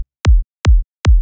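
Three punchy electronic kick drum hits, evenly spaced and loud, each a sharp click dropping into a short deep boom, with silence between and no voices.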